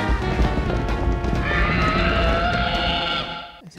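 A cartoon horse in Voodoo Vince whinnies loudly and continuously over clip-clopping hooves during a rat-race rodeo stage, with a bright, drawn-out neigh rising midway and then trailing off.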